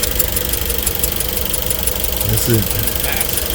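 A badly overheated, damaged car engine, leaking coolant through holes into the reservoir, runs with a rough, steady, knocking rumble while people talk over it.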